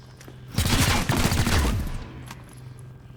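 A burst of rapid gunfire in the Chimera Squad video game, loud and close, rattles for about a second and a half, then fades into a faint trailing tail.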